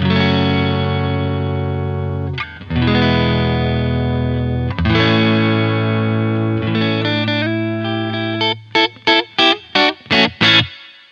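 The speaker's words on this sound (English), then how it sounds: "let's compare it to the next setting, which is the room reverb" Electric guitar played through a digital reverb and ambience pedal on its room reverb setting: sustained strummed chords ringing out with a short, subtle room tail, then a run of rapid staccato chord stabs at the end, loud and alone.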